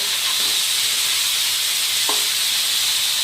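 Onions frying in a pan for a spicy crab dish, a steady, dense sizzling hiss that runs unbroken throughout, close and fairly loud, with a faint clink of stirring.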